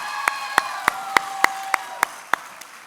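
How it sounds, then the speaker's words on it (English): Slow, sparse claps at a high school pitch night, about ten sharp evenly spaced hand claps close by, with faint background murmur and no wider crowd swelling. "Let's give them one more round of applause, y'all."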